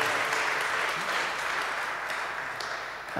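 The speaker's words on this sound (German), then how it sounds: "ich möchte ein bisschen mehr Applaus haben" Audience applause at a live talk-and-music event, a full, steady round of clapping that holds strong and then gradually thins toward the end.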